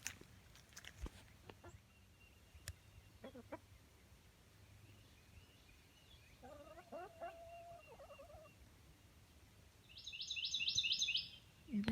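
Backyard chickens released from their coop in the morning fog make faint clucks and calls in a quiet outdoor setting. A louder burst of squawking comes near the end.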